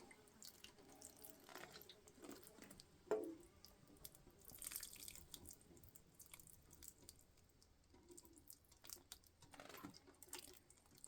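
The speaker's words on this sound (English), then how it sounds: "So just going to give it a little bit of water." Newly planted bare-root plants being given a little water, a faint trickle and splash with scattered drips at low volume throughout.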